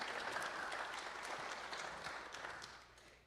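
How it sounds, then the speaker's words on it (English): Audience applause for a church music team at a Unity Center service, a steady wash of clapping from start to finish that fades slightly toward the end. "Let's give them a round of applause"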